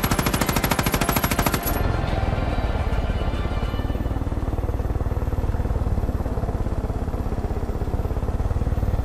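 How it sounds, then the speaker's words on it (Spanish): A machine gun fires in the video game Far Cry 5 with rapid, sharp, loud repeated bursts at first, then keeps going as a dense, continuous rattle that stays close and dominant with no talk. "Ametralladora, sí señor."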